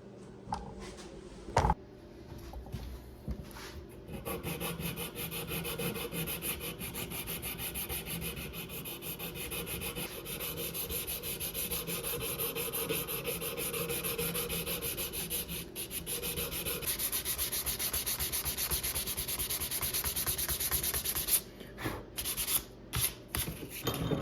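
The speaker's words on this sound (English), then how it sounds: "Let's start sanding." Sandpaper rubs over a hand-carved wooden rainbow trout swimbait lure in close, steady strokes, a continuous scratchy rasp broken by a few sharp taps and brief pauses, ending in quick handling knocks.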